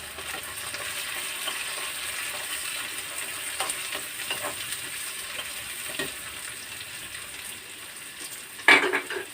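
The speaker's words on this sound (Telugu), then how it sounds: "ఇలాగా బాగా రొయ్యలు ఈ ఉల్లిపాయలు బాగా వేయించుకుందాం." Dried prawns and onions fry in a pan for a gongura dish, making a faint, steady sizzle with soft stirring scrapes, then one sharper clank of a utensil near the end.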